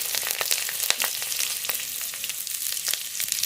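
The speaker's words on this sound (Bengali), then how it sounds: "শাকের ঘন্টের জন্য ফোড়ন করে নেব। কড়াইতে সরষের তেল" Whole radhuni seeds, whole garlic cloves and split green chillies sizzle steadily in hot mustard oil in a wok, a dense continuous crackle with scattered pops, close and alone.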